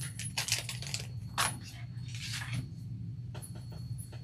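Metal zipper pulls being handled during bag sewing, a series of light metallic clinks and jingles in quick clusters, close and fairly quiet with no talking.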